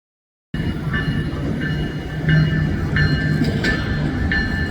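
A Metra Electric train of 2600-series cars pulls into 11th Street Museum Campus station in Chicago: a loud, continuous rolling rumble with rhythmic wheel clicks and faint squeals, rising slightly midway, with no talking.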